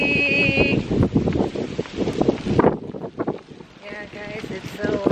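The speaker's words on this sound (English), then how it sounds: "Yeah, guys, it's so windy today." Gusty wind rumbles across the microphone, a constant low roar under a person talking nearby.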